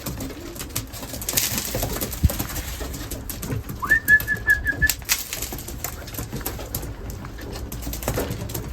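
Racing pigeons in a loft give soft, low coos amid scattered wing flaps, shuffling and small clicks, with a brief whistle-like tone near the middle; fairly quiet and close, no talking.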